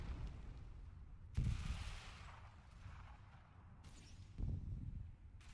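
Gunfire in an online clan shooter match, with bursts of shots at about 1.4 s and 4.4 s over a steady background of game noise.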